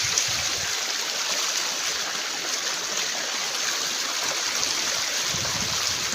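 Water running steadily into a dug pit, a continuous trickling, gurgling stream that stays close and even throughout, with no voices over it.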